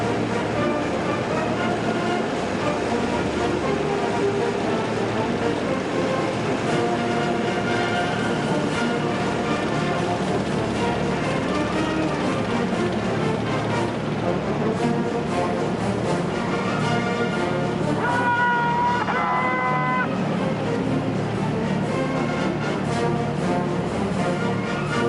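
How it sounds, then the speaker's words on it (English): Rumbling, steady engine and track roar from a formation of 96A main battle tanks driving past in a military parade in Beijing, a dense continuous drone with no pauses across the whole stretch. "96A main battle tank formation"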